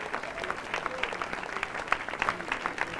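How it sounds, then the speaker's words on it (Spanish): A church congregation claps together, a soft, steady patter of many hands with brief louder bursts, heard from a distance at moderate volume. "Dele un aplauso al Rey con todo su corazón."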